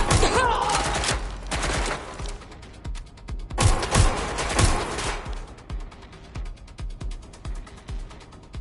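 Bursts of rapid gunfire rattle in the Watch Dogs Legion video game, loud volleys clustering near the start and middle before trailing into scattered, fainter shots, with brief game voice callouts mixed in.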